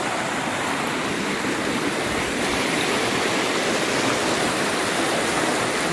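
Water in a forest river rushes through the centre of a bridge, a dense, steady roar heard close up and alone, unbroken throughout.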